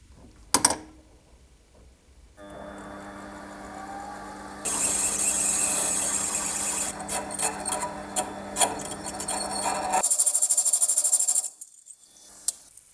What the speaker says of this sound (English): I'm starting with a small drill bit first.